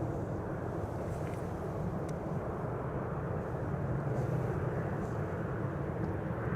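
United Airlines airliner arriving from Houston at Amsterdam Schiphol Airport, a steady broad engine roar that holds at even loudness throughout, with no talk.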